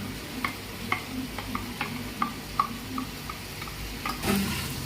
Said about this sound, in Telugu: అల్లం వెల్లుల్లిపాయ పేస్ట్ బాగా ఎర్రగా వేగిపోవాలి.